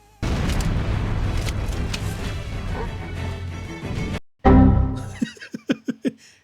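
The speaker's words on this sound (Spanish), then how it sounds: "Explotó la nave con nosotros dentro tan fuerte que hasta me cerró el juego. Tremenda explosión." A spaceship explosion in the video game Halo: Combat Evolved: a heavy, booming blast rumbles for several seconds and cuts off abruptly, followed by another loud blast and a string of sharp, decaying crashes.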